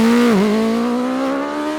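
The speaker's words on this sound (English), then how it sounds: "this is the new BMW S1000RR" The new BMW S1000RR sport motorcycle engine lets out a loud, high-pitched mechanical whine, dipping briefly and then holding steady at a racing pitch. The sound is close and strong, with no voices.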